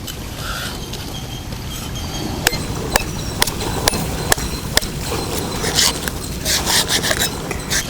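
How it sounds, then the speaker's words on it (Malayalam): A knife cuts the fins off a vatta fish outdoors, scraping and rasping in rough strokes with several sharp clicks of the blade, close and fairly loud with no talk. "മീനെ നമുക്ക് കട്ട് ചെയ്തെടുക്കാം."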